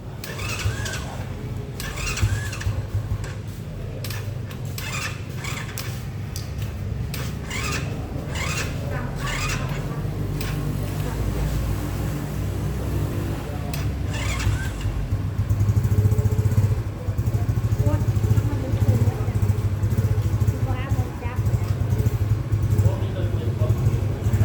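A newly bought motorcycle engine starts and settles into a steady low idle that rumbles under continuous nearby conversation for the whole stretch.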